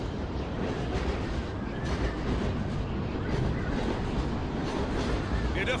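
A train rumbling along in the video game Call of Duty Ghosts, a loud, continuous roar with rattling clatter throughout and faint voices mixed in.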